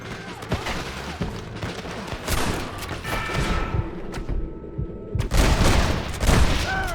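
Gatling gun firing in Red Dead Redemption, bursts of rapid heavy gunfire and booming impacts recurring throughout, loud and close, with a brief lull near the end before another intense volley.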